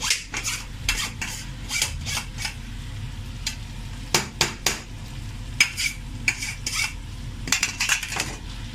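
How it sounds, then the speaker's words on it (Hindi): Boiled goat brain is pressed and stirred into frying masala, a low sizzle under repeated sharp scrapes and taps of a spoon on the pan, close and irregular, with no talking. "अच्छी तरह से ऐसे प्रेस कर करके मगज़ को मिक्सअप कर ले अच्छी तरह से इसके साथ"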